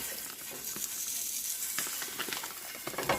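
Ground pork sausage sizzles and crackles steadily in a skillet for a breakfast casserole, a close, even frying hiss with scattered pops and no voices.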